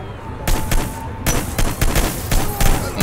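Repeated gunshots ring out loud and close in Hitman: Blood Money, with several bursts of fire spaced across a few seconds.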